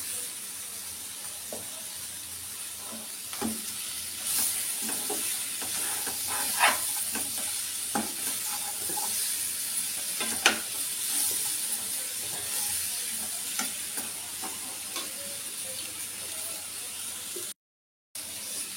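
Boiled peanuts tipped into a curry frying in a pan, giving a steady steamy hiss with scattered soft clinks and scrapes of stirring, fairly close and with no talking.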